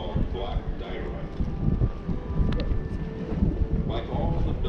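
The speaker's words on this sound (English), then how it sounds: "Oh, it's windy up here." Wind gusting across the top of a dam buffets the microphone in a low, rumbling roar that rises and falls steadily, with faint voices mixed in underneath.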